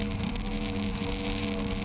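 Hydroplane racing powerboats at the Crystal Coast Grand Prix in Morehead City, North Carolina bunch up into turn 1, their engines a steady loud droning roar with harmonic whine throughout.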